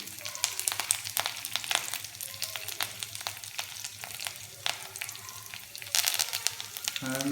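Curry leaves, coriander and mint leaves fry in a pan with a crackling sizzle, broken by frequent sharp pops and stirring clicks at close range.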